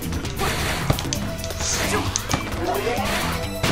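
Punches land in the fighting video game ARMS, a busy run of smashing thwacks and thuds with whooshes over game music and effects, loud and continuous.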